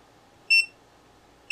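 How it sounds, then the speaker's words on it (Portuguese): A TPS 3010 bench power supply (30 V, 10 A) sounds its overcurrent protection alarm with a short, clear electronic beep, then silence, then another beep starting at the end, against faint background hiss. "está dando alarme de OCP"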